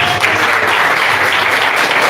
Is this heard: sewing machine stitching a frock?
no